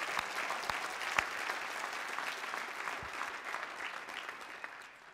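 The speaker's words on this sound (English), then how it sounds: "let's give the Lord a round of applause" A church congregation claps in a sustained round of applause for the Lord, a steady dense patter of many hands that gradually fades at the end, moderately distant.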